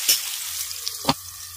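Potatoes with turmeric and salt frying under a lid in a pan, giving a steady low sizzle with a couple of brief clinks or stirring knocks.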